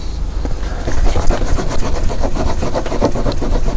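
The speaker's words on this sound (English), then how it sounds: "So obviously if I sand, it will come off" Continuous loud abrasive scraping and rubbing as paint is sanded off a damaged car being cleaned up, heard close and steady with no talk.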